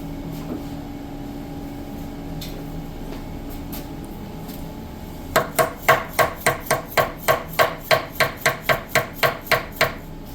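Steady, evenly spaced metallic taps from a hammer driving a timing gear into place on a 1987 Chevy S10 Iron Duke engine, about twenty in a row at a brisk rhythm, close and sharp over a low background hum.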